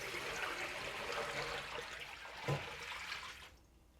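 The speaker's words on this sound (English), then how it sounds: "my Dutch oven has been soaking with the bleach water, and I'm going to dump it out" Bleach water pouring out of a Dutch oven into a sink, a steady splashing gush lasting a few seconds with a brief thump before it tapers off.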